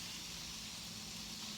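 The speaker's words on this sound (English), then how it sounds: "Sizzle fry." Food frying in a hot pan gives a steady, broadband sizzling hiss that stays even and fairly faint throughout, with no speech.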